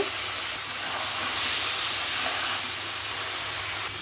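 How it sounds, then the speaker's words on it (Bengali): Potato, pointed gourd and cauliflower fry in fish masala, giving a steady, even hiss that swells slightly at mid-clip and runs unbroken for about four seconds with no talk. "এবার কেটে রাখা সবজিগুলো দিয়ে দিব, আলু, পটল আর ফুলকপিটা দিয়ে এবার কষিয়ে নিব।"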